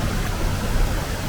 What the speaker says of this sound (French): la cascade est derrière